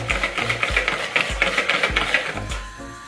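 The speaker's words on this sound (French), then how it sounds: "Maintenant je mélange le tout ensemble et je viens mélanger le tout au mélange d'œufs" Egg and sugar mixture for a raspberry trifle is whisked by hand in a bowl, giving rapid rhythmic scraping and tapping strokes, close and fairly loud, without speech.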